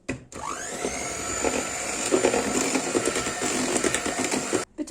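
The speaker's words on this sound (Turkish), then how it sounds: "Mikserle tekrar çırpıyorum." A steady, loud electric hand mixer whir runs almost without a break, whisking cake batter with cocoa continuously with small rattles, then cuts off abruptly at the end.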